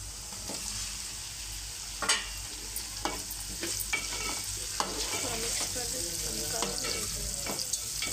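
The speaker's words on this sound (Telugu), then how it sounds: "ఆయిల్లో వేయించుకున్న తర్వాత మనం ఎగ్స్ ఇలా కట్ చేసుకున్నాం కదా, ఎగ్స్ వేసుకుందాం" Cut boiled eggs fry in oil with crushed dry chillies and garlic for an egg fry roast. A constant bright sizzle runs throughout, punctuated by scattered clinks and scrapes of a spatula nearby.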